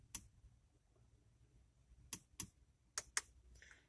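Crisp haptic climate control buttons on a Porsche Panamera 4 Exclusive click a handful of times, sharp, close and quiet, in small clusters separated by near silence.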